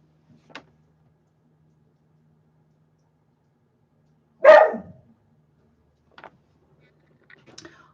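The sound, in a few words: dog barking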